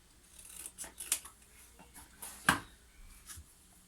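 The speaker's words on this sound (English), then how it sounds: "I've got a box here, so let's cut that off." Scissors snip through a piece of cardboard box for a craft creature's tail, a series of close, crisp cutting clicks and crunches, with one sharper snip standing out midway.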